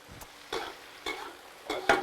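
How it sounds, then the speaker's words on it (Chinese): Pork intestines are stir-fried in lard with scallion, ginger, garlic, pickled and dried chilies and Sichuan peppercorns: a quiet background sizzle broken by four rhythmic scraping strokes of the spatula against the wok. "把肥肠倒进来哈，一起给它炒香"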